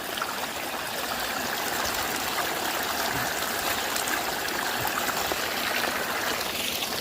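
A small waterfall stream in the jungle rushes steadily, a continuous broadband wash of flowing water that holds even and moderately close throughout, with no voices.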